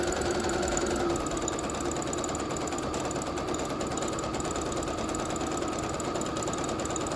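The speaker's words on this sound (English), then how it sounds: "we're gonna take it and put it on the machine. Start to stitch off a little bit, back stitch it" A sewing machine runs a continuous straight stitch, attaching ribbon to a ruffle sock, its motor whirring steadily with a rapid mechanical needle chatter close by and no talking.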